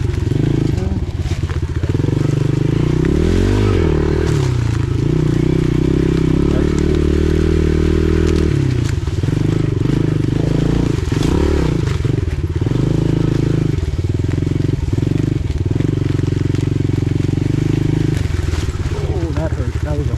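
A pit bike motor runs loud and close the whole way through a backyard forest, its revs rising and falling in uneven swells with occasional knocks and clatter from rough ground.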